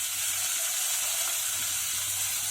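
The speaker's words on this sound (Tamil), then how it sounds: "இன்னும் கொஞ்சம் வெங்காயம் நல்லா வதங்கி வரட்டும்." Onions and capsicum sautéing in a pan, a steady soft sizzle and hiss throughout with faint low stirring underneath.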